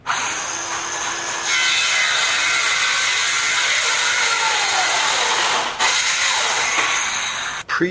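A power saw cutting a composite post into short lengths for a small raised vegetable bed, with one steady, loud, bright cutting whine running almost unbroken and a brief dip near the end.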